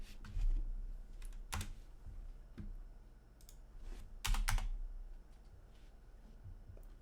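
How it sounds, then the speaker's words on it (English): Brief bursts of typing on a computer keyboard, quiet and close, with light clicky keystrokes in short clusters separated by pauses and no talking. "So what I'll do is type in Toshiba."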